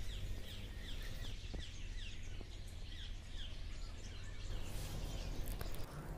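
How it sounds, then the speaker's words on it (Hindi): Morning birdsong at a home in India: small birds chirp and tweet repeatedly at a distance, faint and scattered over a steady low outdoor hum, with no talking. "चिड़िया का बोलना बहुत प्यारा लगता है सुबह सुबह, तो आप लोग सुनना।"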